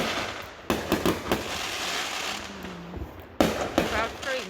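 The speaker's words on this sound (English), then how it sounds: "I can see the fireworks" Fireworks bursting across the street from a porch, a series of loud sharp bangs and crackles at irregular intervals, some close together, over a steady outdoor background.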